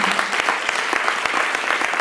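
A church congregation applauding loudly and steadily, dense overlapping hand claps filling the space with no pauses, voices faintly mixed beneath.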